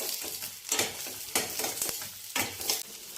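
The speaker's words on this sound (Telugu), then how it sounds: "ఇవన్నీ కూడా వేయించుకోవాలి కొద్దిసేపు" Green chillies, ginger and garlic frying in a pan for egg curry make a close, steady sizzle, broken by a few loud scraping stirs, with no one talking.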